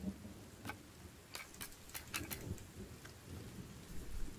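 Rain with thunder in the survival video game The Forest: a soft, steady rain hiss with a few sharp crackling thunder-like bursts and low rumbles, fairly faint overall.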